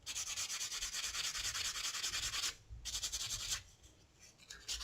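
Steady, continuous sanding of a small hammered wire pendant, a close raspy rubbing that pauses briefly and resumes.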